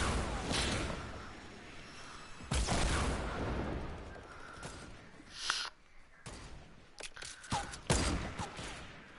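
Sniper rifle fire in a first-person shooter game, with several sharp, loud cracks spread across the span and a few quieter shots and impacts between them. No talk is heard.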